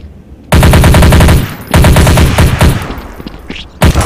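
Rapid automatic gunfire in Counter-Strike: Source, loud bursts of clustered shots starting abruptly, pausing briefly, then resuming in ragged volleys before a final burst.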